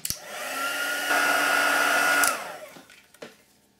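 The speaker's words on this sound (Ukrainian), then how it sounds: "І висушу ось це зображення феном." A hair dryer whirs loudly at close range, drying heat-embossing powder on a papercraft image, steps up in power briefly, then switches off and winds down, followed by a couple of light knocks.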